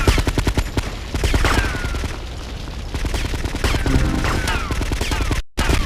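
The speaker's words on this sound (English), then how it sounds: "Yep, I'm gonna shoot you." Rapid gunfire in Grand Theft Auto Vice City Stories, dense bursts of loud shots rattling continuously for several seconds, cut by a brief dropout near the end.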